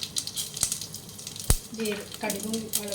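Mustard seeds and chilies sputtering in hot oil for a rasam tempering, scattered sharp pops and crackles with one loud snap, close and fairly quiet, with brief watery sounds.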